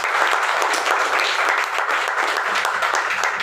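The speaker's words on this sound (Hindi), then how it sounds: "एक बार जोरदार तालियां होनी चाहिए" A large audience claps hard and steadily at a business gathering in India, a loud, dense wash of applause that holds for the whole stretch without a break.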